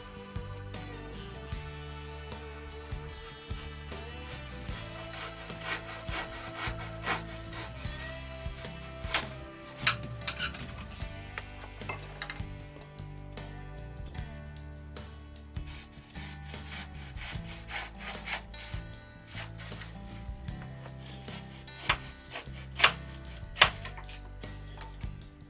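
Hand saw cutting a wooden model aircraft wing part free from a building jig, close rasping strokes in an uneven rhythm with short pauses, no talk.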